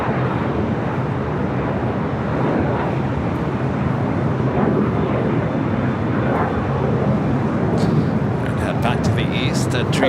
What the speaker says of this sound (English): This is United Express 5370 taking off to Redmond on the